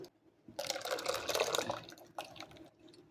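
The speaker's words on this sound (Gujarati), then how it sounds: "થોડું આપણે એમાં પાણી ઉમેરીશું" Water poured in two short bursts into thick buttermilk for masala chaas, a splashy gushing stream that stops briefly and then resumes, close and moderately loud.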